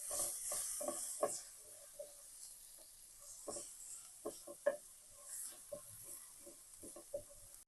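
Onions frying in a pan for a homemade chicken lasagna sauce, a steady soft sizzle with scattered crackles and the clatter of stirring, close and alone without talk.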